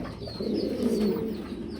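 A pair of fancy stretcher pigeons coos close by, soft low throaty burbling rising and falling over a faint background.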